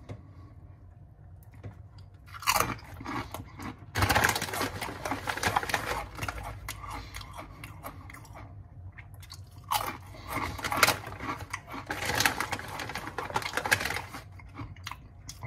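Close-up crunching and chewing of Takis Nitro habanero and lime rolled tortilla chips, loud brittle bites breaking out every few seconds between steadier mastication, with no talking.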